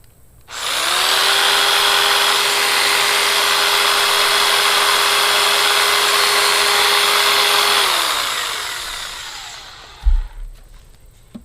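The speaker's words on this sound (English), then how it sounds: "I don't recommend trying to use a jigsaw on this thick of a piece of wood" A corded jigsaw powered by a 1000 watt OKMO portable power station cuts through a thick piece of wood, giving a loud, steady high-pitched buzzing whine for about seven seconds that then winds down, followed by a brief thump.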